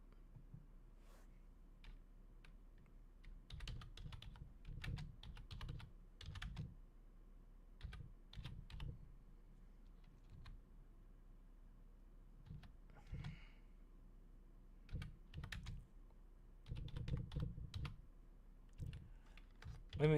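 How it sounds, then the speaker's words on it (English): Someone types on a computer keyboard in uneven bursts of quick, clicky keystrokes with short pauses between, close and fairly quiet in an otherwise still room. "I'm typing now."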